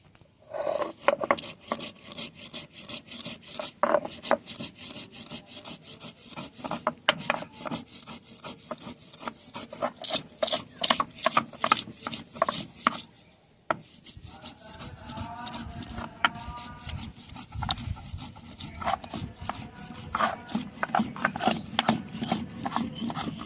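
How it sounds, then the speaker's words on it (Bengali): Green chilies and mustard seeds are ground on a traditional stone slab, a rough rhythmic scraping and rubbing of stone against stone repeated in quick strokes, close and loud, with a short pause midway before the grinding resumes. "এখন শিলপাটায় কাঁচামরিচ আর সরিষা বেটে নেব"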